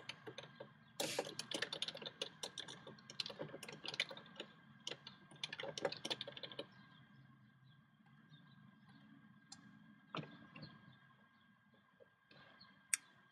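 Someone types on a computer keyboard, entering a business name and address, with bursts of quick, light clicks and pauses between them. A few louder isolated taps stand out in a quiet room.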